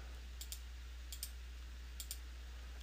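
Keys pressed on a graphing calculator, three quick pairs of light clicks spaced evenly over a steady low hum, faint and close with no talking.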